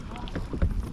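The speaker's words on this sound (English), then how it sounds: "Good grief, that wind is freezy." Cold wind gusts across Lake Chickamauga while fishing from a boat, a low rumbling buffet on the microphone lasting about a second, with a voice partly audible.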